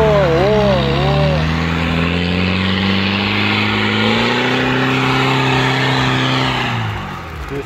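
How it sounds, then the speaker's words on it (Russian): An off-road vehicle engine revs hard while churning through swampy mud, a strong sustained drone rising and holding steady before easing off near the end, with voices talking over it. "Николай, нажми на педаль газа"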